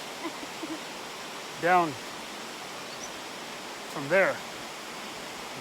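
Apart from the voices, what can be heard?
waterfall on the North Fork Park trail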